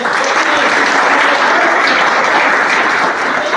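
Loud, dense audience applause fills the whole stretch, a continuous wash of many hands clapping at once with no pauses or talking over it.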